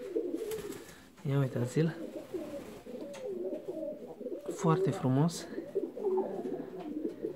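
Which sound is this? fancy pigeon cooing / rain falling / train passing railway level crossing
fancy pigeon cooing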